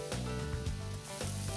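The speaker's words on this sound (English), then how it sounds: "We want the sizzle. The sizzle is good." Red and green bell peppers sizzle in a pan of butter, a soft continuous frying hiss with faint stirring clatters, heard up close without talk.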